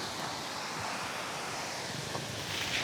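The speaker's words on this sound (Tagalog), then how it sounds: "Ang sarap ng tunog ng tubig." Steady rushing water, like waves or flowing surf, fills the scene with continuous broadband wash and some wind buffeting, no talking.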